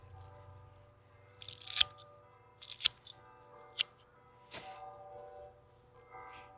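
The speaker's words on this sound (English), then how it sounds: "So I'm going to cut it back." Pruning shears make several crisp, close snips, five or six spaced cuts, while a garden plant is cut back and topped in autumn before winter, with quiet pauses between cuts.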